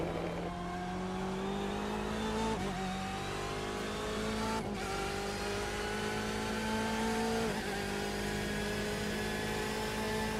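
A BMW race car in a sim racing game at Motegi howls steadily close by, its engine note climbing through the gears with brief dips at each shift, loud and continuous throughout.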